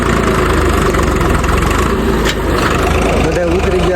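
A farm tractor's engine idles loudly up close with a heavy, steady rumble, while people talk over it.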